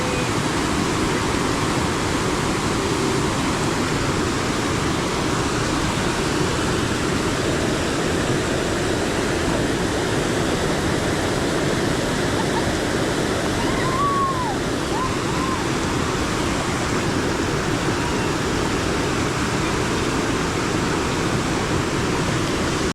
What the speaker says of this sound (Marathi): पाऊस थांबतच नाही जोरदार पाऊस आहे